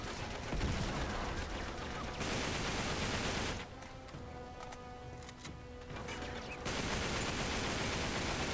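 Bursts of gunfire from a firefight in the video game Uncharted 3: Drake's Deception, rapid dense volleys fairly quiet overall, with a brief lull in the middle before shooting resumes.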